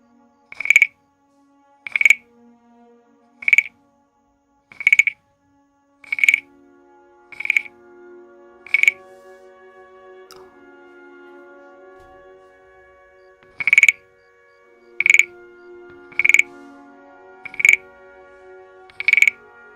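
A frog croaker for an ASMR stream makes a dozen sharp, rasping croaks at a steady rhythm. The croaks come in two runs separated by a quiet stretch with faint background tones, and sound close and loud.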